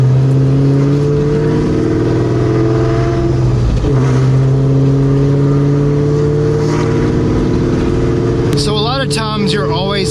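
Terminator Cobra fitted with Borla Atak exhausts, a loud steady engine drone with strong low harmonics that swells and revs up sharply near the end.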